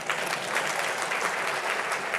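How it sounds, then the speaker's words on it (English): A keynote audience at the AWS Summit in New Delhi gives a round of applause, an even, sustained roar of many hands clapping throughout, fairly close and unbroken. "I'll take a round of applause there"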